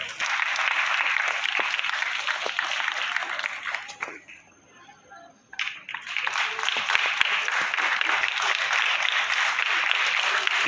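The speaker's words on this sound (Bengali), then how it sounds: "করছি করতালি হোক আরো একবার" An audience at a computer institute's annual programme claps loudly and continuously, the applause fading briefly to near quiet midway before swelling again to full strength.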